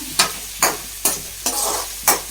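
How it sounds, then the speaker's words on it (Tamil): Tomatoes and onions sautéing in a pan, with five evenly spaced stirring strokes scraping through a soft, steady sizzle at close range. "இப்போ தக்காளி போடுறோம்."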